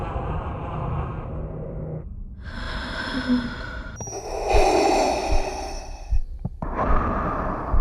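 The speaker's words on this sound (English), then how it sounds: "her putting on the helmet and hearing the breathing sound was definitely a little nod to Darth Vader" Darth Vader-style mechanical breathing rasps from inside a helmet in The Acolyte, slow deep inhales and exhales alternating in a heavy, close, filtered rhythm with no talk.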